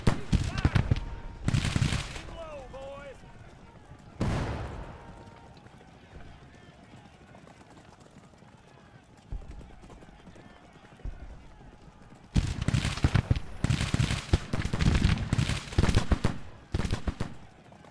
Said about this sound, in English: Hopefully avoid that artillery fire.